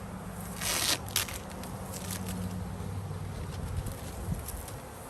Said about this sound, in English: There's more bees in the trap.